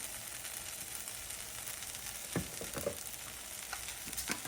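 Chili powder, garlic and cumin fry quietly in a pan under a soft, even sizzle, broken by a few brief scraping stirs in the second half.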